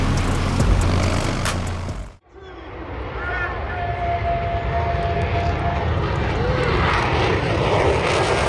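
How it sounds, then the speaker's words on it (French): F-22 Raptor fighter jet taking off and banking steeply, a loud roaring engine rush cut by a sudden brief drop, then a sustained powerful roar with a faint whine. "Une inclinaison de 90 degrés quelques secondes après le décollage. Voilà de quoi est capable le F-22 Raptor"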